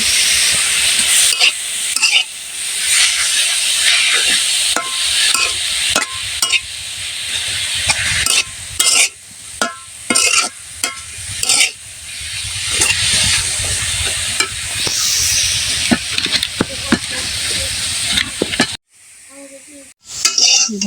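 Vegetable bhaji frying in a pan crackles and sizzles loudly and steadily, with frequent spatula scrapes and clacks, before the sound drops away abruptly near the end.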